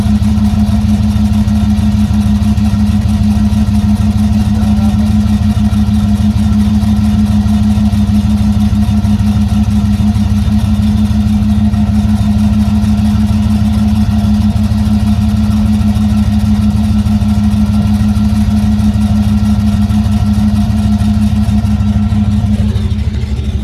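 A steady, loud engine runs throughout with a strong low hum and a constant pitch. It could be a dirt bike being started and kept running outdoors on a windy day, and it cuts off near the end.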